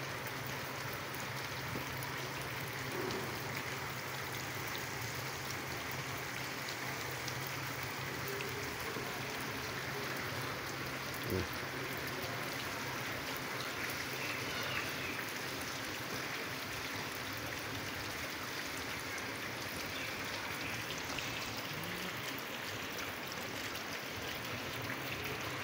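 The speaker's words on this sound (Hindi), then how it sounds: "ये देखो बारिश, यहाँ से पता लग रहा है काफ़ी तेज़ हो रही है बारिश का मौसम।" Heavy monsoon rain pours down in a dense, unbroken hiss that holds evenly for the whole stretch, like water rushing over surfaces, with no voices heard over it.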